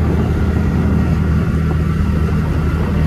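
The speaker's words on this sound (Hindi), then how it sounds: "गाड़ी हमारी चल पड़ी है वापसी घर की ओर" A car cruises home along roads, its low engine drone and road rumble continuous and close for the whole stretch, with no one talking.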